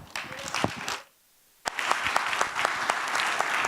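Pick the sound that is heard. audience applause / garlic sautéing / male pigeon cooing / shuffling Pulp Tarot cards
audience applause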